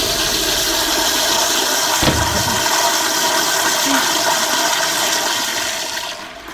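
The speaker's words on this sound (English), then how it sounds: "Automatic flush?" A loud automatic toilet flush roars steadily for several seconds, a rushing gush of water that stays strong throughout and then tapers off at the end.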